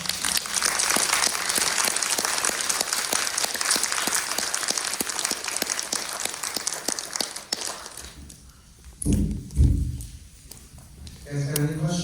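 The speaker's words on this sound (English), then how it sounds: "a round of applause" Audience applause following a lecture by Deke Weaver, sustained clapping for about eight seconds before fading out, followed by a few close thumps and handling noises.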